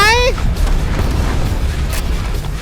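A grenade goes off in a sniper shooting video game: a short falling electronic tone, then a loud, low rumbling boom that keeps rolling for a couple of seconds.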